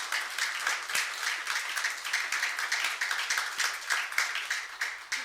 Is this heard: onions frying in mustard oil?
no